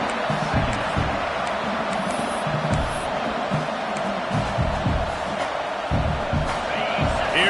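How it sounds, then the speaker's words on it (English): A football video game stadium crowd, Iowa against LSU, roars in a continuous wide wash of noise with swelling cheers, while a commentator talks over it. "this crowd is turning it up a notch"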